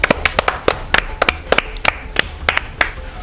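A classroom claps for a student's correct quiz answer: a series of sharp, fairly close hand claps, irregular and spaced a few tenths of a second apart, with no talk over them.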